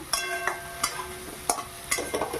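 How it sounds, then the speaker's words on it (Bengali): Bitter gourd and potato with turmeric are stirred in a pan. About six distinct spatula scrapes ring against the metal over a soft steady sizzle, close and clear, with no voices. "আবারও একটু নেড়ে চেড়ে নিলাম"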